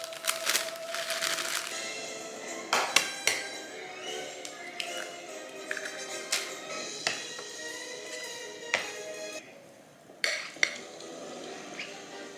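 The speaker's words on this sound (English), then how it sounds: "Let's make our brownies" Brownie batter being mixed for a Halloween party, with utensils clinking and scraping against a bowl and pans in sharp, irregular taps and knocks over a steady kitchen background.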